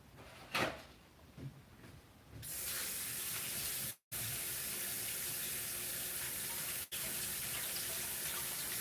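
Tap water runs steadily into a sink as apples are washed, a loud close rush that starts after a few soft handling knocks and continues with two brief cuts.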